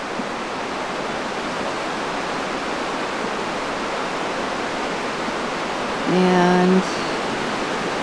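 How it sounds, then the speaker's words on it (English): A local waterfall at Dosewallips State Park sends up a steady, broad rushing roar that fills the whole stretch, with a voice briefly speaking near the end. "I see there's a water running over there."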